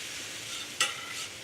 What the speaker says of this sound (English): Got that nice sizzle.